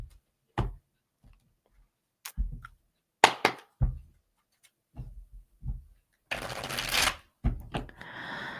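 Tarot and oracle cards being shuffled and handled, with sparse soft taps and riffles separated by quiet gaps, then a longer burst of dense rustling shuffling near the end, close and fairly quiet, with no talk.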